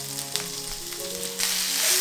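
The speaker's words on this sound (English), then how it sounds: "I still have a little bit of oil from the sausages, So I'm just adding my onions." Onions fry in leftover sausage oil in a pan, a close, steady sizzle that swells louder in the final half second.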